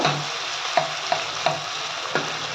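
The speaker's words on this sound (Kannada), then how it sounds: "ಇದನ್ನ ಹಸಿ ವಾಸನೆ ಹೋಗೋವರೆಗೂ ಎಣ್ಣೆಲ್ಲ ಚೆನ್ನಾಗಿ ಫ್ರೈ ಮಾಡ್ಕೊಳ್ಳೋಣ" Beans fry in oil in a pan: a continuous hiss with four or five regular stirring scrapes, close and fairly loud.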